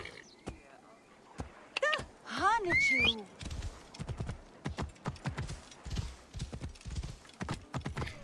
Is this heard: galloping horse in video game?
yes